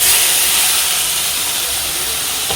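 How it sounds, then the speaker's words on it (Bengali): Ground spice paste with onion and garlic hits hot oil with bay leaf and cumin in a kadai, giving a loud, continuous, bright sizzle throughout. "এবার দিয়ে দেবো এই বাটা মশলাটা"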